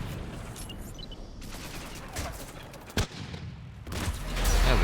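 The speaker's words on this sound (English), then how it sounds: "That was a good grenade." Grenade blast in Mass Effect 3 going off amid steady gunfire, a sharp short thump standing out near the middle, followed by rising rumble from combat and screen-shaking chaos.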